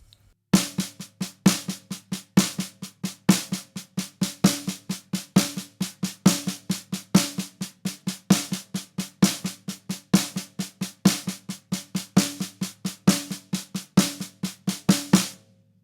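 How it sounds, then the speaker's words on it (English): Snare drum playing a steady bed of soft sixteenth-note ghost notes with regular louder accents, a clean rhythmic pattern that continues alone for the whole stretch. "a bed of 16th note ghost notes, so playing very softly, and then practicing accenting first the downbeats"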